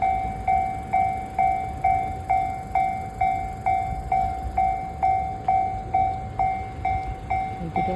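A train passes with a steady, evenly spaced series of ringing tonal pulses repeating about twice a second over a low rumble, moderately loud and continuous.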